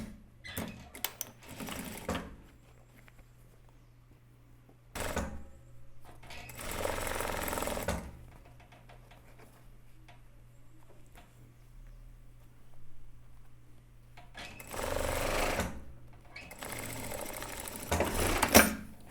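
A sewing machine stitches the first seam on a shirt cuff in several separate loud bursts, with quieter pauses of handling between runs.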